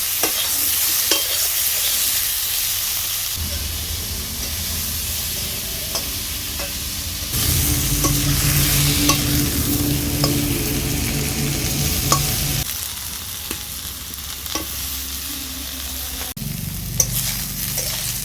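Eggplant sprinkled with salt and turmeric fries in oil, a steady close crackling sizzle that swells and settles in stages, punctuated by light taps and scrapes of stirring.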